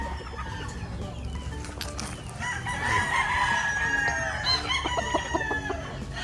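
Early bird gamefowl roosters and chickens crowing and clucking in a flock, several overlapping calls rising louder midway with steady background noise of the pen.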